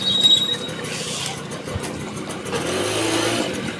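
A vehicle engine straining on a badly broken road, a steady mid-pitched drone that rises toward the end, heard from inside over road rumble.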